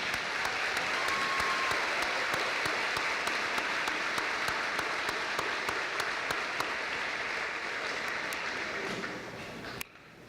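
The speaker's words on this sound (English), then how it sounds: "Boys and girls, if you would please join me in a round of applause for your teachers." A middle school awards-ceremony crowd gives its teachers a sustained round of applause, dense clapping loud and steady before thinning out and stopping abruptly near the end.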